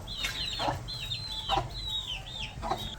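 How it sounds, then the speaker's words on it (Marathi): A hen clucks near her chicks in a rural cattle yard, giving repeated short clucks with high, thin chick peeps running throughout at steady loudness. "गाईज मी तुम्हाला कोंबडीची पिल्लं दाखवतो बरं का."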